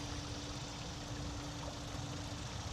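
Small waterfall in a water garden with lily pads, giving a steady, continuous rush of splashing water close by, a broad even wash with no pauses and no voices.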